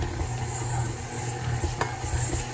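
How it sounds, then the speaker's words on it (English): Blueberry lemon sourdough dough churning steadily in a stand mixer, a continuous low rumbling motor hum with soft sticky slapping and stirring texture, close and even throughout. "it's been stirring for about 2 minutes"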